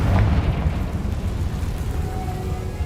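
A Confringo fire spell explodes in the game Hogwarts Legacy, a deep booming blast that hits at once and fades into a long, low rumbling roar.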